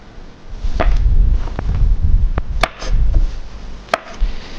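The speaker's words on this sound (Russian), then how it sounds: "с огурцов эти отрежем кончики." A few sharp knife chops on a cutting board, cutting the ends off cucumbers, spaced irregularly, close and clear with no talking.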